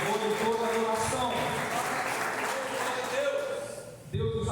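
A Portuguese-speaking church congregation applauds in a strong, continuous wash that keeps going under music with sustained tones, dips briefly near the end and then resumes.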